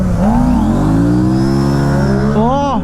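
RS 457 and Ninja ZX-4R motorcycles accelerating hard off the line in a drag race, engines wailing loudly and climbing in pitch, close and sustained, with a brief voice near the end.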